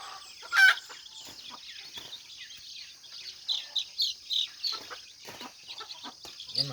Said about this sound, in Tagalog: ito na pala yung second batch ng papisa ng ating ano, bantam, no, cross sa labuyo